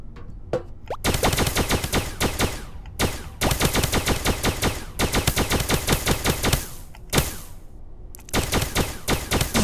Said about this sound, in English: Yes, this is the kind of shooting I like.